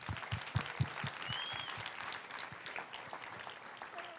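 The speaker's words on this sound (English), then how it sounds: "I wanted to give ourselves a round of applause for making it here." A gathered crowd applauds at a school sports event's opening ceremony, a few sharp, loud claps standing out early before the clapping settles into a steady, moderate patter.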